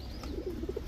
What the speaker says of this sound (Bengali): শর্ট ফেস বার্লিং চিলা সিঙ্গেল একটা মাদি কবুতর